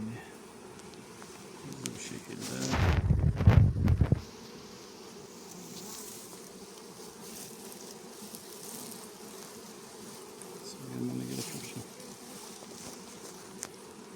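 Honeybees buzz around an opened beehive during autumn hive work, a loud dense swarm passing close for a moment, then a steady fainter hum that swells briefly again later.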